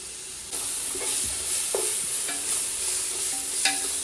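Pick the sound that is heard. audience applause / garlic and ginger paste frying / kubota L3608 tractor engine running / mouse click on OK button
garlic and ginger paste frying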